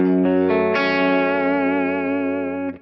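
Distorted electric guitar played through a Kemper profile of a Dr Z Carmen Ghia small low-wattage amp: a few quick picked notes, then a rich sustained chord ringing out and slowly fading.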